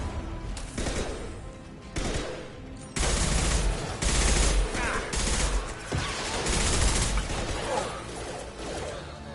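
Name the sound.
impact gun firing in Mass Effect 2 video game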